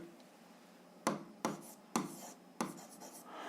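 Handwriting while working a 7th-grade algebra exercise: four short, crisp scratching strokes spaced about half a second apart, close and distinct against a quiet room.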